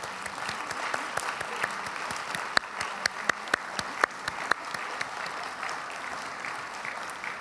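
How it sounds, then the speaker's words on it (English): Audience at the UWW Gala 2015 applauding students: a steady wash of clapping with a few sharper, louder individual claps standing out partway through, sustained throughout. "Let's give these students a big round of applause."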